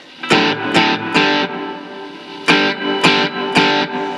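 An electric guitar plays through a Marshall MG15CFX practice amp with studio reverb, struck chords ringing out in two groups of three, each strum sharp at the attack and decaying with a reverb tail between hits.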